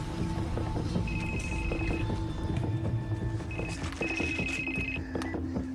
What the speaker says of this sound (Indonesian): Terdengar sebuah handphone berdering dari balik jeruji got pembuangan tinja.